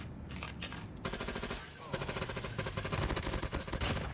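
Rapid automatic gunfire from the Call of Duty Mobile video game, dense bursts of shots that grow louder and almost continuous after the first second, with game effects and faint voice underneath.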